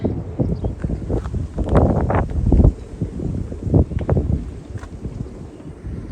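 Cool wind gusting across an outdoor spot in a mountain village in Iran, a broadband rumble on the microphone that swells and dips steadily for several seconds, with no voices.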